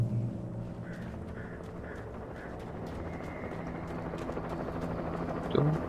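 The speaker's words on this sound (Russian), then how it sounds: "Вертолет слышу." A helicopter in the horror video game Alan Wake gives a faint, steady rotor drone in the background, with a few brief tonal calls and clicks over it and a soft thump near the end.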